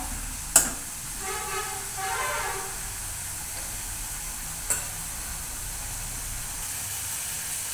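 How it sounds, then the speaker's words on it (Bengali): Spice paste being sautéed in a pan, a steady soft sizzle and hiss with a couple of sharp spoon knocks and brief stirring. "মশলাটাকে খুব সুন্দর করে ভালো করে কষে নিচ্ছি"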